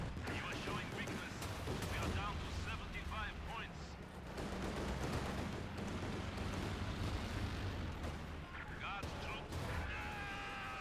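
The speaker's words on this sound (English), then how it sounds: "now the airstrike's going to come on in" Airstrike explosions and steady gunfire in a Company of Heroes 2 battle with Soviet and OKW forces: a dense, continuous rumble of blasts and shots that holds throughout, loud and close.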